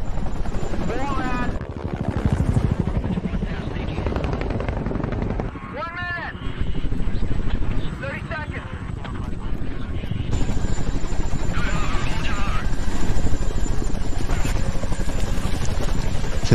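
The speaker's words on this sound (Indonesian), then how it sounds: "Helikopter mengantar mereka ke posisi tujuan sesuai rencana menggunakan 2 Chinook dan 2 Apache" Two Chinook and two Apache military helicopters fly in a movie scene, a loud, steady rotor drone that fills the whole stretch beneath shifting background sound and a few brief voices.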